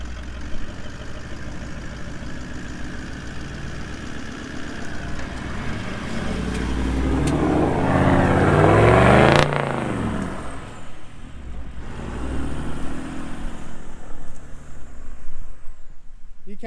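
A car driving in second gear on a rough, muddy track in remote Australia gives a mid-pitched engine drone that swells to a peak of revving in the middle and then settles back to a lower rumble.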